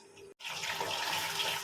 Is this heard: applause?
no